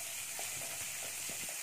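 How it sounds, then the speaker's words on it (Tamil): Steady oily sizzling and crackle of onions frying in oil in a pan for Chettinad lentil-ball curry, continuous and close, with faint stirring scrapes underneath. "வெங்காயம் சேர்த்து நல்லா வதக்கிக்கோங்க"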